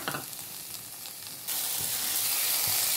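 Chopped capsicum and potatoes fry in a pan for semia upma; a soft crackle with a few stirring scrapes gives way abruptly to a louder, steady hissing sizzle that carries on to the end.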